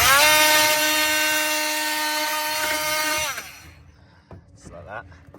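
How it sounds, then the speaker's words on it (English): Power tool cutting through part of a tub rack during a Next Gen Amarok Kings rack install, a loud steady high whine with strong harmonics for about three seconds, then winding down into quieter handling noises. "So I'm just gonna cut."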